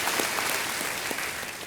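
A studio audience on a television quiz show applauds for cricketer Mithali Raj, a steady, dense clapping that fills the room throughout, with no voices over it.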